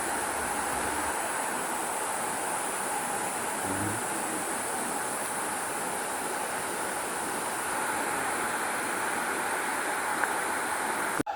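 Steady rushing water flows without a break throughout, a constant broadband roar like a river running nearby.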